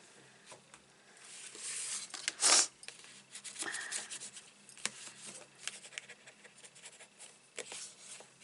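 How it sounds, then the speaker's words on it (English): A bone folder rubs and creases card stock for handmade greeting card crafting, soft close scraping strokes with one sharper, louder swipe partway through, and no talking. "I'm going to use my bone folder as well"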